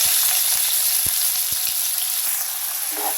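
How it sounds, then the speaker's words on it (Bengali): Chopped onions frying in hot oil with five-spice seeds: a steady bright sizzle runs throughout, with a few soft low knocks of a stirring spoon and no talk. "পেঁয়াজগুলো আমি সুন্দর করে হালকা একটু ভেজে দেবো তেলের মধ্যে"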